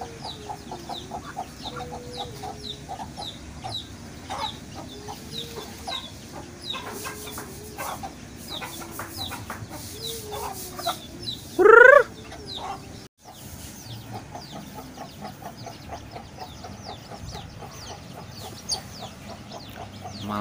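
A mother hen with her chicks caught in a trap, steady soft clucking and high peeping from the chicks nearby, with a brief loud squawk midway and outdoor background noise.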